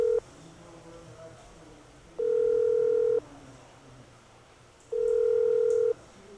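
A steady telephone tone sounds in three long beeps, each about a second, separated by quieter gaps, heard during an inmate's call from a prison communication room set in a corner of a factory.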